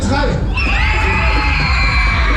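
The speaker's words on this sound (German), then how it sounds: "ihr schreit so laut wie ihr könnt" A festival crowd at the 2024 Sim-Jü in Werne screams and yells as loud as it can during a shouting contest, a dense, loud, continuous roar that fills the whole moment.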